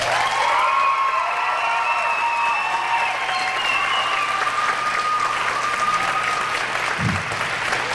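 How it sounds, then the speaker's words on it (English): Sustained applause and cheering from a graduation audience for Santa Fe Public Schools graduates, a steady dense wash of clapping with a few raised voices, filling the room. "a huge round of applause,"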